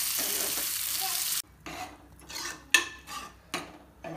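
Loud sizzling and crackling of spices tempering in hot oil at first, then quieter stirring and spoon scrapes against a pan in short bursts.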